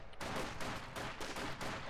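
Rapid bursts of small-arms and machine-gun fire crackle in a Company of Heroes 2 battle as conscripts push forward, several distinct volleys rattling at moderate distance with no voices over them.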